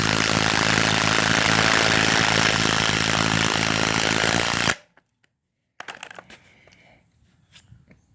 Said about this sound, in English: I drilled this hole with the Makita, and I'm gonna run it in.